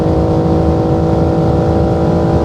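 A 2025 BMW M4 engine revs hard and high past 7,000 rpm on the Autobahn, a loud, steady roar held close up throughout.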